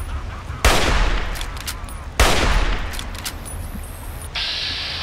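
A minigun fires in the Fallout 3 video game in two long, loud spinning bursts, each trailing off, followed by a fainter high whine, with no one talking.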